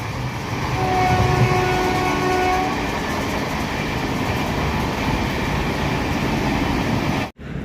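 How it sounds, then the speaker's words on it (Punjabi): A passenger train running toward Amritsar heard from inside a coach, a loud steady rumble and clatter of wheels on track with a brief distant horn early on, no voices. "ਸ਼ੱਕ ਛੱਕ ਕਰਦੀ ਗੱਡੀ ਜਾਂਦੀ ਆ"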